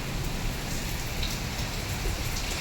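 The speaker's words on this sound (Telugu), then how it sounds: "ఇప్పుడైతే పడతలేదు వర్షమే పడుతుంది" Steady rain falls without a break, a dense hiss of drops hitting a surface close by, with no voices.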